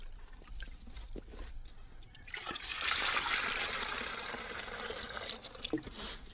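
Filtered water poured from a filtration system into a 10-liter dry bag outdoors, a steady splashing pour that builds in the middle and carries on for several seconds, close and fairly loud, with no talk.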